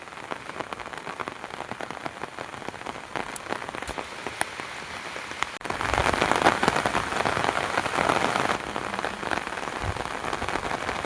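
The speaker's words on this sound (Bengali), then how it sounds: "এদিকে রোদ এদিকে বৃষ্টি" Steady rain patters on surfaces during a sunshower, a dense, even hiss that swells noticeably louder partway through and stays heavy to the end, with no voices.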